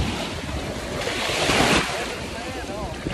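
Ocean waves wash onto a Miami beach, a steady broadband rush that swells and peaks midway before easing, with wind buffeting the microphone throughout.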